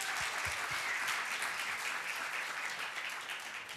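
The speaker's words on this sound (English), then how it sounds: "Yes, a round of applause." Audience applause at a Burning Man storytelling symposium, a faint, distant, continuous wash of clapping from a crowd throughout.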